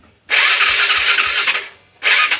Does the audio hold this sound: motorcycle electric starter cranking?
yes